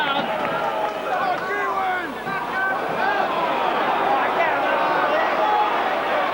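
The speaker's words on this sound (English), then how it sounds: "And the cheer from the parochial crowd." A parochial crowd cheering at a 1988 New Zealand versus Papua New Guinea rugby league match at Carlaw Park, a steady roar with whistles and shouts throughout, heard from the stands at a distance.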